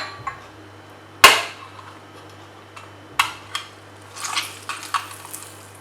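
A manual hand press juicer squeezes an orange, with a sharp loud clack, a second thump a couple of seconds later, then a run of lighter rattling clicks and creaks nearby.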